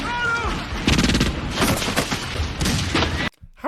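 Gunfire from a 1994 action film, a dense run of sharp shots and bursts mixed with voices and score, loud throughout before cutting off abruptly near the end.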